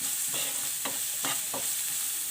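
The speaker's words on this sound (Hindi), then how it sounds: "हल्का सा मैं मिक्स करूँगी" Spices including chilli and black pepper with salt are lightly mixed in a hot pan, producing four or five quick scraping stir strokes over a continuous sizzle, close and unaccompanied by speech.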